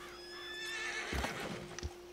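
A horse in Red Dead Redemption 2 gives a loud, drawn-out neigh that descends in pitch, followed by a couple of heavy hoof thuds, with no talk.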